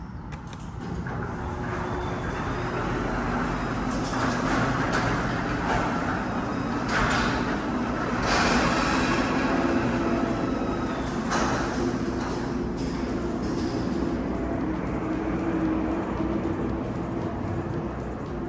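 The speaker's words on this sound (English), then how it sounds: "So inside the garage anyway, I can definitely hear all the traffic." Steady traffic noise heard from inside a closed garage of a downtown Fort Lauderdale townhome, a continuous low rumble with passing swells and occasional brief clunks, moderately loud and unbroken.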